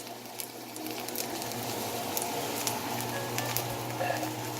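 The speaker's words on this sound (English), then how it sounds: "now I'm frying them on both sides" Plantain slices fry in a pan with a steady close sizzle and soft crackling patter throughout, no voices over it.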